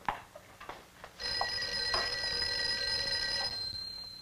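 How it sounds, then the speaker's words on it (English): A telephone in an office rings with a bright, sustained electric bell tone lasting a couple of seconds, preceded by a few light clicks and taps. "I think your phone is ringing"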